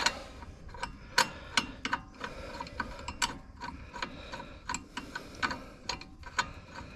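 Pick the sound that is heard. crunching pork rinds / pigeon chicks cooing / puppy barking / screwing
screwing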